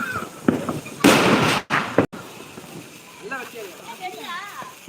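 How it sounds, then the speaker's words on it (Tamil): A loud whooshing burst erupts, followed by sharp pops, then excited voices chatter and shout as the noise dies down. "வெடி மேலே போய் வெடிக்கும்"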